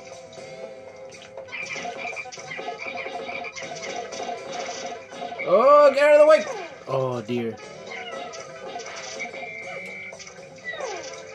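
A frog enemy in the Pikmin video game croaks in a few short bursts amid game music and effects, while someone shouts and exclaims over it.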